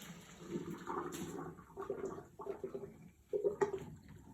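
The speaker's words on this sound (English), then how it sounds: "So when you're pouring your pot, you don't wanna sit it down, you're gonna pour it into the strainer" Pasta water is poured from a pot into a strainer, a soft intermittent splashing and gurgling at fairly low level with small spattering bursts.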